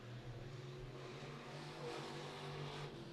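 A number 21 late model race car on the Beckley Motor Speedway oval during qualifying, its engine droning loud and steady with a strong low harmonic that rises slightly in pitch as it passes, heard alone throughout.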